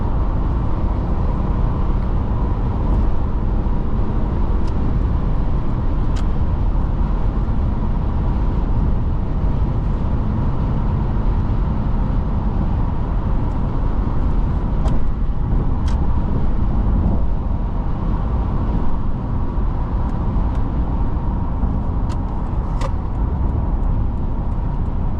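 A 2006 Subaru B9 Tribeca SUV on the road, heard from inside the cabin: a steady, loud engine and road drone that holds evenly for the whole stretch, with no talking.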